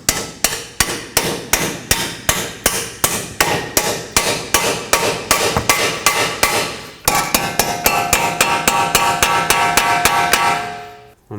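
Steady, close hammer blows drive a strut bolt through the steering knuckle of a 2005-2010 Pontiac G6 during a front strut mount replacement; about two strikes per second, then a faster metallic ringing run before stopping.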